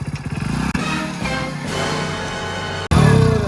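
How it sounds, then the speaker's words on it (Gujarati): A motorcycle engine running close and loud, a steady throbbing drone with a brief cut before it surges back, heard alone. "મોટા મોટીનો ધંધા બધું કેવું બાઈક આવે છે"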